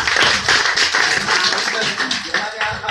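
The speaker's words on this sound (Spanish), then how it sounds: "Le vamos a regalar un aplauso a Sammy" An audience claps for a volunteer named Sammy during a clown show, steady close applause filling the moment with a voice briefly mixed in.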